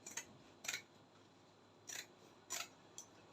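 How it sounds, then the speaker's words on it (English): Scissors snip through the fabric of a sewn structured sleeve, trimming its seam allowance: four or five short, crisp cuts at irregular intervals, close and fairly quiet against a still room. "I'll also repeat the same trimming, so you'll be able to turn it very well."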